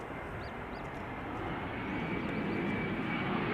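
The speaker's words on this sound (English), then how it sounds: "next up Iberia Express, arriving from Madrid" An Iberia Express airliner arriving at Amsterdam Schiphol from Madrid gives a steady, moderately loud engine roar that builds slightly as it nears, with faint bird chirps above it and no talk.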